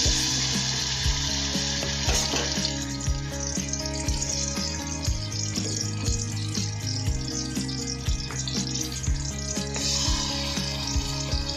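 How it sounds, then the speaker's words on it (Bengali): Marinated chicken pieces for a dum biryani sizzle and fry steadily in an oiled pan, a continuous crackling hiss with occasional stirring scrapes and knocks, close and fairly loud with no talking. "একটু দিয়ে দেবো ম্যারিনেট করা চিকেনগুলো"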